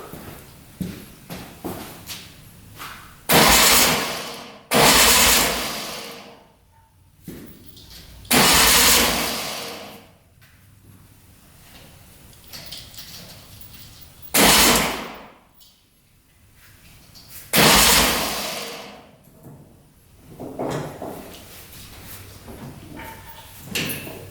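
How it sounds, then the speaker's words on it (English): The engine of a 1967 Volkswagen dune buggy cranks over again and again without starting, giving several loud bursts of a few seconds each with quieter gaps and mechanical clatter between them. "So we're gonna go turn the key, see if this engine turns over."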